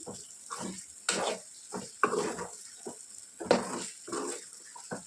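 Mutton fries in a pan with curry leaves, giving intermittent bursts of sizzling and spatula scrapes in an uneven rhythm, close and moderately loud.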